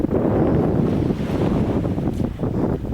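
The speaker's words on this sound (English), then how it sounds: "We got a wind out of the south today, probably about 10, 12 miles an hour." Steady south wind of about 10–12 mph gusts across a Gulf island campsite, buffeting the microphone with a continuous low roar that swells and eases without pause.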